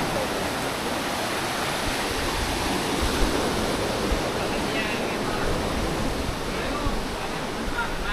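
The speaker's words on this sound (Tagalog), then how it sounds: "ang lalaki pa ng alon." Big ocean waves wash onto a beach in a steady, loud, unbroken roar of surf with no distinct breaks, continuous throughout.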